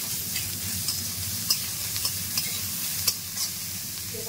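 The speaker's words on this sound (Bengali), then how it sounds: "এর মধ্যে দিয়ে দিচ্ছি পেঁয়াজ কুচানোটা, তারপরে দেবো রসুন কুচানো, কাঁচা লঙ্কা কুচানো, একটু নাড়াচাড়া করে নিচ্ছি" Chopped onion, garlic and green chilli sizzle steadily in a hot pan while a spatula scrapes and taps at irregular intervals, close and without talk.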